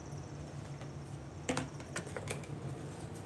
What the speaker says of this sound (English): I'm feeling like I want to shuffle our deck a little bit